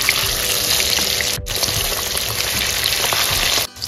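Rohu fish pieces coated in turmeric and salt fry in hot oil, giving a loud, steady broadband sizzle that runs unbroken throughout with no talking.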